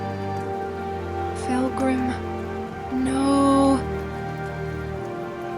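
Rain falls steadily in the Skyrim video game as a soft, constant patter under game music, while a voice speaks briefly.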